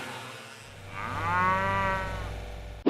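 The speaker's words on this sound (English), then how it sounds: "Cow cow, moo moo, funny cow" A cow moos once, a drawn-out, rising and falling bellow lasting over a second, fairly close and clear, ending in a brief sharp click.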